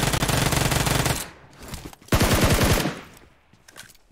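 Rapid automatic spray fire from a gun in the mobile battle royale game PUBG Mobile comes in two loud bursts of tightly spaced shots, with a quieter gap between them and fainter shots trailing at the end.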